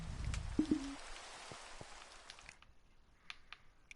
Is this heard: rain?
yes